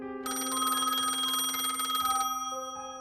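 An old landline telephone bell ringing late at night, a loud continuous metallic trill lasting about two seconds, then quieter lingering tones, with no voices.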